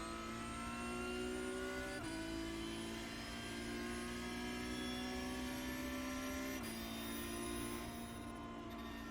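Porsche Cup race car in iRacing at Monza, engine droning steadily as it pulls up through the gears, with brief dips at each upshift near the 2 and 6.5 second marks, loud and continuous with no talk.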